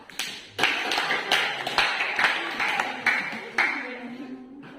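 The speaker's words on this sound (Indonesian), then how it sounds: "Mari kita berikan aplaus untuk kelompok 1 yang sudah menjawab pertanyaan dari kelompok 4" Classroom applause for a student group, a few short bursts of clapping and tapping from a small audience, fairly close, mixed with murmured talk.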